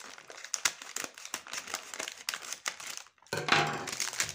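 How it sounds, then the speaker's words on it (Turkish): Crinkly plastic packaging of frozen pizza toast torn open, loud close crackling and crumpling in quick bursts, a brief pause, then a final burst of rustling; no voices. "Hemen şöyle paketi açalım."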